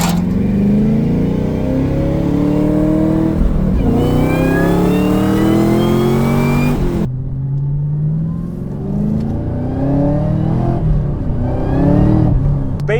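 A Camaro ZL1 with a reported bad clutch accelerates hard, its engine climbing loudly through rising rev sweeps, dropping at a gear change and pulling up again, close and continuous throughout.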